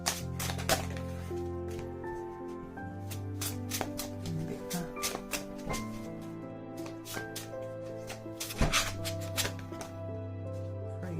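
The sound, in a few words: shuffling oracle card deck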